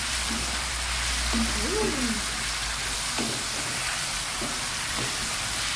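Pork belly sizzles in a pan just after wine is added, giving a dense, steady hiss like rain on a hot surface, with faint murmured talk and a few soft clinks underneath.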